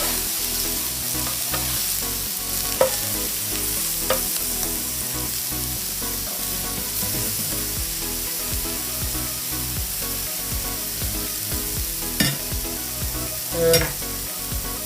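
Vegetables for yakisoba fry with a little salt on a hot plate, producing a loud, continuous sizzle throughout, with occasional sharp clicks and taps of utensils.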